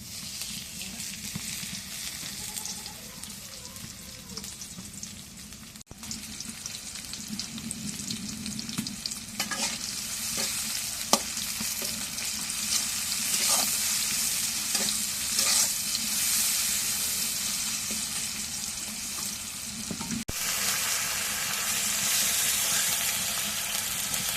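Oil frying in a pan while cooking, with a steady loud sizzle throughout, brief stirring clatters, and a voice talking quietly underneath.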